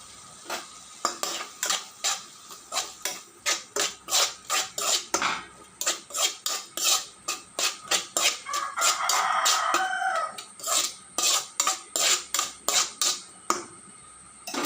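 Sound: stirring ground ingredients in a pan for parotta

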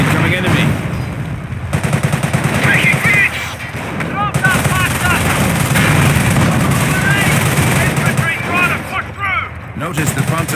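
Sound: gunfire in video game Company of Heroes

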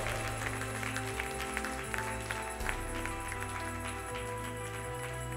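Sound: church congregation applauding

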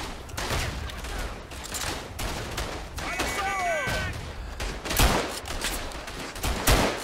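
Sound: rifle gunfire in the video game Verdun

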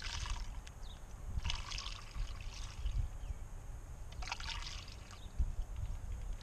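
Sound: pouring sugar water into a bee feeder

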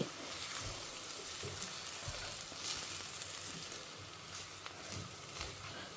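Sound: sautéing snake gourd with ground spice powder in a pan

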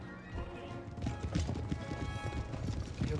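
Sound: cavalry horses' hooves advancing in Empire Total War video game

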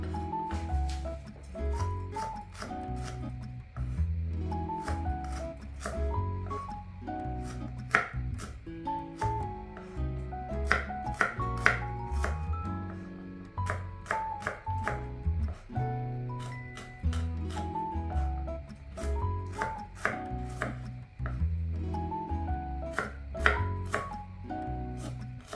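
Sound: chopping shallots with a knife

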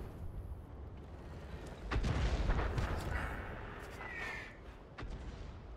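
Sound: artillery fire in World of Tanks video game

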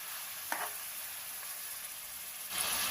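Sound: mutton frying in oil in a pan

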